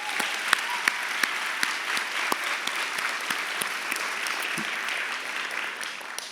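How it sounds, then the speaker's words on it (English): Graduation audience applauding families at a Jefferson County International Baccalaureate ceremony, a sustained wash of clapping from a large crowd with a few sharper individual claps standing out near the front. "Can we give your family a round of applause?"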